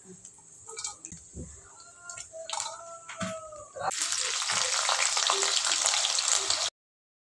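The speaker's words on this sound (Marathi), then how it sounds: "पनीर चांगलं तळलेलं आहे आता हे काढून घेऊ" Paneer fries in a pan with crackling sizzle and some stirring clinks, the hiss growing loud and dense midway before cutting off abruptly.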